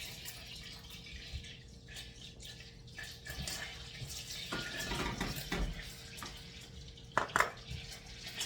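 Melting butter and dark brown sugar stirred in a pan for butterscotch pudding, making a steady soft wet scraping and sizzling texture with a few louder clinks near the end, close up and without speech.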